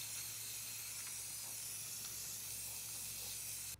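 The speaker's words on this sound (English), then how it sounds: "I'm going to spray paint everything black just to make it look better" Black spray paint hisses steadily from an aerosol can onto the parts of a homemade automatic infrared vacuum mousetrap. One continuous close spray runs alone with a low hum underneath.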